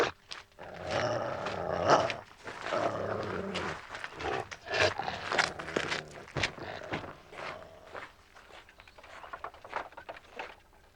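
A large chained dog growls and snarls in rough, rumbling bursts for several seconds, fairly close and loud, with shuffling movement around it and no talking.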